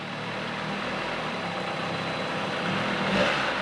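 A 1975 Johnson 25 HP outboard motor idles steadily in gear, a low rumbling drone that holds even and rises slightly near the end.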